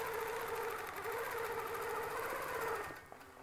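A longarm quilting machine stitches clamshell arcs with a loud, steady mechanical whirr and rapid needle rattle that runs nearly the whole time and then eases off near the end.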